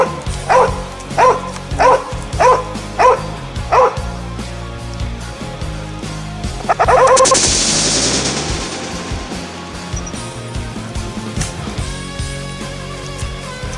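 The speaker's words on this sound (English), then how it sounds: "Good dogs." Hunting dogs barking during a goat cull on steep ground, six evenly spaced loud barks followed by a sharp burst of noise and then scattered fainter sounds fading out.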